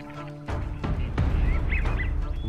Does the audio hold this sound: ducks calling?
yes